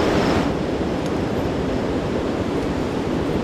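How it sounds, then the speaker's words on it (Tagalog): River flowing near a campsite at night, a constant dense rushing wash of water, steady and fairly loud with no voices. "I'm sure naririnig nyo yung tunog ng ilog."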